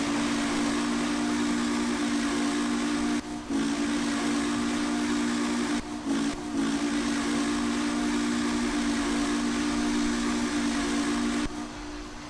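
Frisco 1500 steam locomotive working at trackside, a loud continuous steady hiss of steam with a sustained whistle-like tone throughout, briefly dipping a few times, rather than distinct rhythmic chuffs; no voices.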